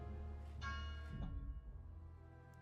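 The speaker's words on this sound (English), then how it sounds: "I hear the bells ringing?" Bells ring in a strategy video game, a couple of soft tonal chimes with a ringing decay, faint and alone against quiet.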